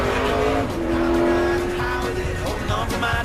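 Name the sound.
NASCAR race cars racing at Bristol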